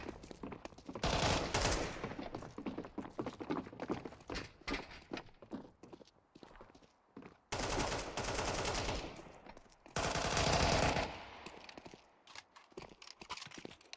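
Gunfire in a video game round involving a planted bomb: loud, dense bursts of rapid automatic shots, broken by brief pauses and quieter stretches, close and harsh, with no voices.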